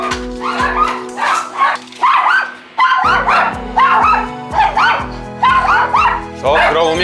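Three dogs bark and yip excitedly at the doorbell in quick repeated bursts, loud and close, with a voice speaking between them.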